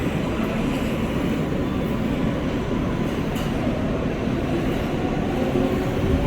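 Riding inside an empty NYC subway R143 car on the L train, a loud steady rumble and roar of the wheels on the track that runs without a break, with no voices.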